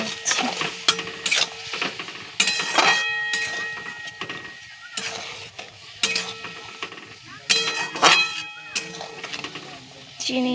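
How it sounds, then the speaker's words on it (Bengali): Mango already melted down in a pan is stirred with added sugar, a utensil scraping and clinking against the metal in irregular bursts with a soft sizzle underneath, close and moderately loud. "চিনিটা দেওয়ার পর আমি একটু নাড়িয়ে নিচ্ছি।"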